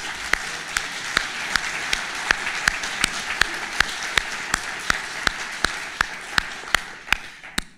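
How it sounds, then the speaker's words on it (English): Audience applause for Stephen Keenan at a keynote talk: steady, fairly close clapping with sharp individual claps standing out in a regular rhythm, sustained across the whole stretch without speech. "Could everybody give Stephen a hand of applause?"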